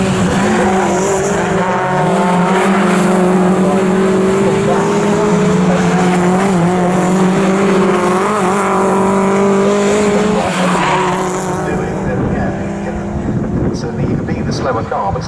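MG race cars in an MG Trophy race at Snetterton roar past in a close train, engines droning and rising in pitch under steady commentary, loud and continuous throughout.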